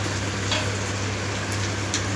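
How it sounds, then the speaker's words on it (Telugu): Pieces of fish sizzle in hot oil in a home kitchen, a steady continuous crackling hiss with a few faint clinks over a low hum. "చూడండి చేపలు వేస్తున్నారు"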